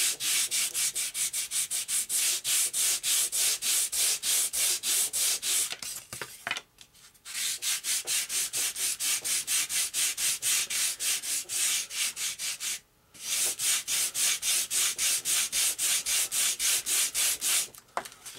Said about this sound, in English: I've got my rudder here now. Got my trusty wooden block. And again, we're going to sand that angle into it.